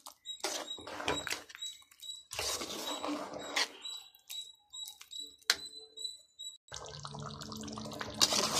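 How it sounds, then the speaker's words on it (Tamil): Water pours and splashes into thick Chettinad chicken gravy in a pan in several bursts, with gurgling and bubbling between pours and short pauses of near silence. "ரொம்ப கெட்டியாக இருக்குது, தண்ணியை கொஞ்சம் ஊற்றிக்கலாம்."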